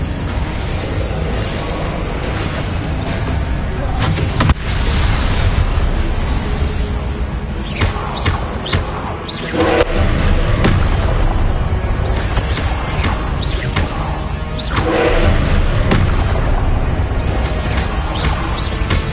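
Repeated fiery blasts from explosion and fire spells in Hogwarts Legacy on PS5 crackle and boom over a dense, loud game soundscape, with several sharp bursts rising above a continuous rumbling bed.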